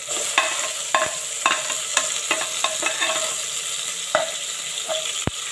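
Chopped tomatoes sauté in a pan for ginisang monggo, a Bicolano mung bean dish, with a steady sizzle broken by repeated clicks and scrapes of a spoon stirring against the pan.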